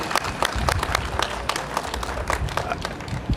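An audience breaks into applause at an outdoor park development event in downtown St. Paul, a dense, steady patter of many hands clapping at moderate loudness, with no talking.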